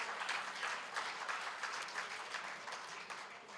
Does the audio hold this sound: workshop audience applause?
yes